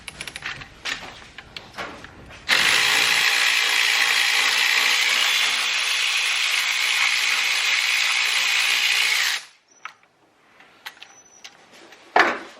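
A ratchet drives out the screws holding a steering wheel during a Sparco wheel and quick-release hub install on an 8th-gen turbo car, giving a dense, continuous clicking for about seven seconds, then stopping with a few light knocks.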